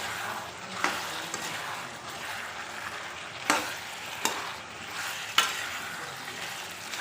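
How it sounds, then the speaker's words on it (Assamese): A mutton curry with potatoes being stirred in a pot with the lid off, giving a steady low sizzle and bubble broken by several sharp scrapes and knocks of the spoon against the pot. "এতিয়া মই ঢাকনিখন গুচাই এবাৰ লাৰি দিছোঁ।"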